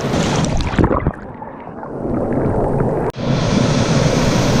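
Steady loud rushing water roaring continuously close by at the base of a waterfall, a dense churning wash with no voices.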